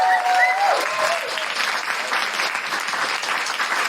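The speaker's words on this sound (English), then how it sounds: "Can I have a big round of applause for Lauren and Tamzin from Where You At?" Audience applause at a town hall event, a steady wash of many hands clapping that holds at full strength throughout, with a few brief tonal chirps near the start.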